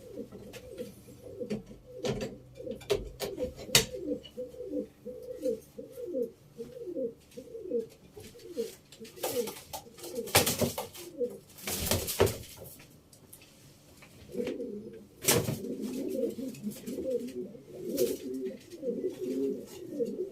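Domestic pigeons coo repeatedly in a loft, overlapping rhythmic calls close by, with a few sharp knocks and door-like bangs breaking in midway.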